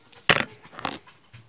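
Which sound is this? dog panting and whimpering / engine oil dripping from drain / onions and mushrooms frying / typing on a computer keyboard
dog panting and whimpering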